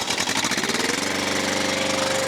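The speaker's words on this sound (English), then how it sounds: "Our engine's gonna start." Engine on a Stepp SBF 200 bottom-fired kettle cranking and catching, then settling into a loud, steady, close-up pulsing run.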